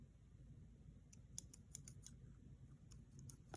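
Hand-sewing scissors, old and dull, snip thread close to a knot at a fabric seam, giving a few sharp, close clicks and snips in a quiet room.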